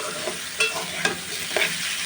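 Vegetables fry with onion, garlic and carrot in a pan, a steady sizzle with a few quick spatula scrapes as they are stirred.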